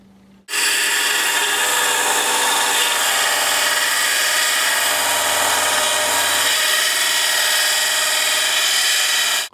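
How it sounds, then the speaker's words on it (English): A grinder profiles a Damascus steel knife blade, a loud continuous abrasive roar that starts abruptly and holds steady for about nine seconds before cutting off, with the pitch dipping slightly midway as pressure on the steel changes. "now we'll go over to the grinder and grinder profile"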